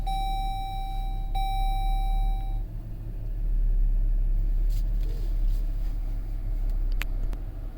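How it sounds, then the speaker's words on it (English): A 2020 Chrysler Pacifica minivan starting up: an electronic chime tone and beeps, then a low engine rumble settling into a steady idle, heard from inside the cabin. "Let's go ahead and start it up"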